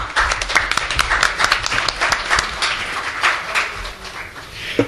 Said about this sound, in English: Please welcome Mr. Noland with warm applause.